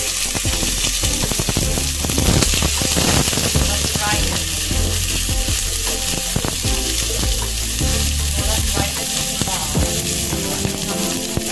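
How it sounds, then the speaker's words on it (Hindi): Onions fry in hot oil with a loud, steady, dense sizzle and crackle that fills the whole stretch, close up and unbroken, with no one talking over it. "इसमें हमने सबसे पहले ऑयल डाला है और अभी हम थोड़े ऑनियंस डालेंगे"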